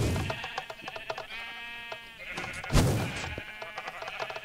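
Sheep bleating in Minecraft, several distinct wavering bleats over a few seconds, with clicking game sounds around them and no talk.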